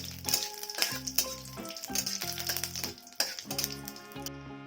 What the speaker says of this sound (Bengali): এবারে কারি পাতাকে ভালো করে ভেজে নেব